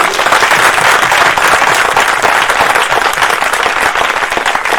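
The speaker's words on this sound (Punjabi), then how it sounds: "ਜਿੰਨੇ ਨੂੰ ਵਿਸ਼ਵਾਸ ਆ ਤਾੜੀ ਮਾਰ ਸਕਦੇ ਨੇ।" A church congregation claps hands during a service, loud, close and densely packed clapping from many people, sustained at an even intensity throughout without speech.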